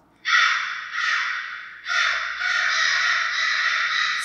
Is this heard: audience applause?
no